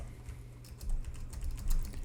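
Soft, muffled typing on a membrane keyboard, a quick irregular patter of dull key presses with no talking, fairly quiet and close.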